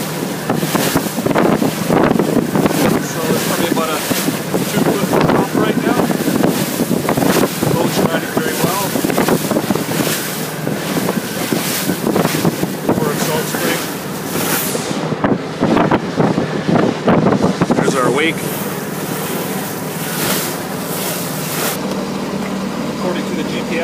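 IS25 Independent Shipwrights trawler underway at 2300 RPM against a current near Salt Spring Island, its engine a steady drone under heavy wind buffeting and rushing water.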